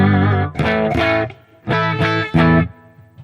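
An electric guitar with reverb plays a handful of sustained distorted chords in an uneven rhythm, loud and close, each ringing briefly before the next strike.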